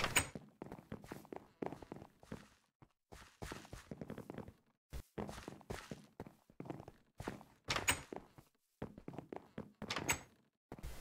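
Wooden doors in the Minecraft minigame VampireZ opening and shutting in repeated short thunks and clacks, mixed with blocky footsteps and other game effects, fairly close and moderately loud with no talking over them.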